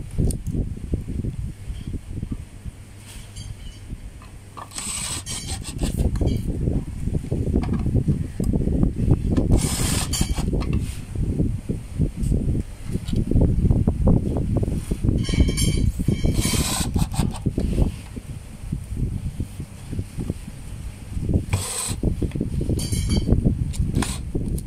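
An LED searchlight's gear mechanism runs on test after its gears are cleaned and reassembled, giving a steady close mechanical whirring and clattering with occasional louder rattling bursts, continuous throughout.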